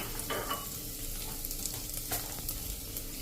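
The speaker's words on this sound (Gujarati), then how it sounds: "આ રીતે આપણે ભાતને શેકશું ને એટલે એકદમ સરસ દૂધમાં સ્મેલ પણ ઘીની બેસી જાય છે" Rice grains roasting in ghee in a pan before milk is added, giving a soft steady frying crackle with a few stirring scrapes, fairly quiet and close, with no talking.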